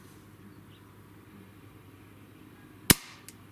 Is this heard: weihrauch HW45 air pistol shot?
yes